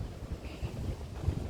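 Strong wind gusting outdoors during a storm with rain, a steady rushing roar buffeting the microphone, loud and continuous with low rumbling surges.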